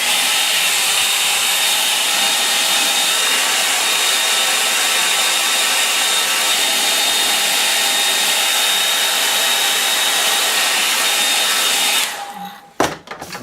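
A hair dryer blows steadily and loudly across a painting to dry the paint, a continuous roar that runs for about twelve seconds before cutting off abruptly, followed by a few faint handling knocks.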